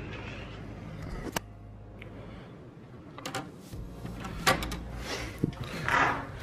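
A hotel room door at the Beach Club deluxe studio villas is opened, giving a few soft clicks and light thuds of the latch and swinging door against a quiet room background.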